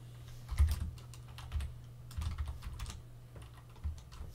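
Keys on a computer keyboard are typed in short, uneven bursts of close clicks, fairly quiet over a low hum with no talk.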